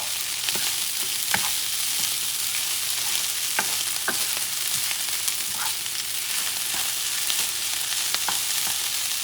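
Egg fried rice with chicken is stirred in a hot pan, a steady loud sizzle running throughout with scattered scraping clicks of the spatula against the pan.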